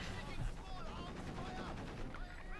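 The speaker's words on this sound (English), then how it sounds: "Pioneers being bombarded here by mortar fire, half-track fire in the south here" Mortar and half-track fire in the Company of Heroes 2 strategy game rumble and thud in a dense battle mix, with faint voices over the steady low explosions.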